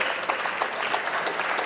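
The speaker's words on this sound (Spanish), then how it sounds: "Fuertes aplausos para ella también." An audience at an international circular economy forum applauds a speaker, a brief burst of steady, fairly loud clapping from many hands with no voices over it.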